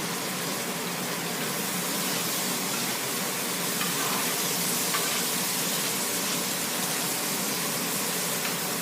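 Leftover bacon fat sizzles in a pan while steak for a Venezuelan pepito cooks, giving a dense, steady, close crackling hiss that holds at an even level throughout with no talking.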